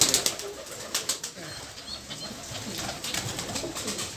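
Free-ranging pigeons kept on a rooftop in Naogaon give soft intermittent coos, with a few quick bursts of wing flapping early on over a constant hiss of background noise.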